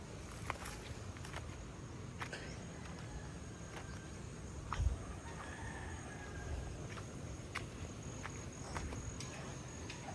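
Chickens cluck and call faintly in the distance against a steady outdoor background in a small vegetable garden, with a few scattered clicks and taps.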